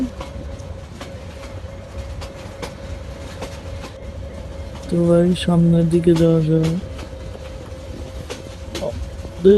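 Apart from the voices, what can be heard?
train running in video game Train Sim Bangladesh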